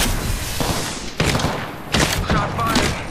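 Gunfire in the Apex Legends video game: several loud bursts of shots in quick succession with thuds, dense and close, with no speech.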